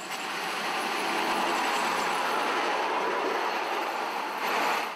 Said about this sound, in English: a trip on the bamboo train came as a welcome distraction